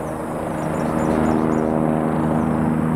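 A helicopter in flight: a loud, steady droning engine hum with a pulsing rotor beat, close and unbroken for the full few seconds.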